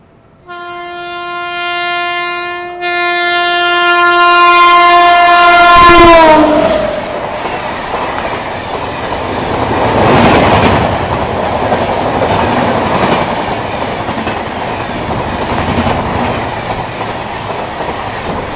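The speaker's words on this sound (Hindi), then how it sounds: "अब देखते हैं भाई ये कौन सी ट्रेन है जो हमको ओवरटेक करने वाली है" The Howrah–Rishikesh Yoga Nagari Express overtakes, opening with a long, loud horn blast before its carriages rush past nearby in a steady roaring clatter of wheels on rails.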